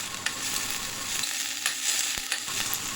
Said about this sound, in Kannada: 1 ಸ್ಪೂನ್ ಆಫ್ ಆಯಿಲ್, ಚಾಪ್ ಮಾಡಿರೋ ಆನಿಯನ್ಸ್ ಆ್ಯಂಡ್ ಚಿಲ್ಲೀಸ್ನ ಆ್ಯಡ್ ಮಾಡಿ